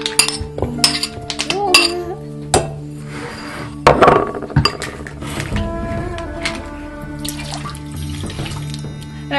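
Dishes and utensils clink in a saucepan as sugar, evaporated milk, egg yolks, butter and vanilla go in, with scattered sharp metallic knocks, running water and a clatter around the middle, fairly close and busy.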